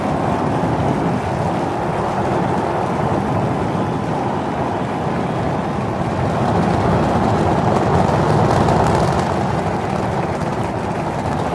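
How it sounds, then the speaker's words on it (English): SpaceX Starship Flight 7 lifting off, a continuous broad roaring rumble that holds steady and swells slightly as the launch goes on, with no voices over it. "We have liftoff."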